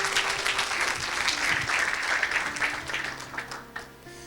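A church congregation applauds loudly and steadily, the clapping swelling in the middle and then tapering off toward the end.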